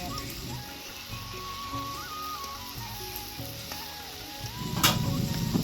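Smoked pork with taro flowers sizzles steadily in a pan while being stirred, a continuous close frying hiss under soft background music, swelling into a louder scraping stir near the end.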